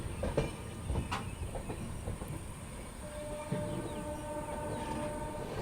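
A train runs on the Lucknow–Kanpur line via Raebareli, heard from aboard as a steady rumble with occasional clicks and a faint tonal whine, no talk.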